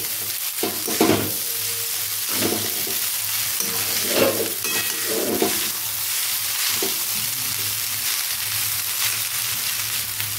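Vegetable chowmein stir-fried on high heat in a wok sizzles loudly and steadily, with repeated scraping and tossing strokes of the spatula, close by and without talk.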